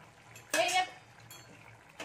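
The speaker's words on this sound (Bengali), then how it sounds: "এই দেখুন এখানে আমি ঘেটে নিচ্ছি" A spoon clatters briefly against a cooking pot while potatoes and vegetables are stirred, followed by a couple of fainter taps in an otherwise quiet kitchen.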